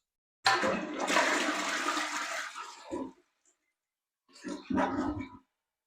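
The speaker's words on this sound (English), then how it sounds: "As water rushed from the tank into the bowl, it helped move the waste through the trapway and into the drainage system" A toilet flushes loudly nearby, water surging from the tank into the bowl for about two and a half seconds before cutting off, followed after a pause by a short gurgling refill burst.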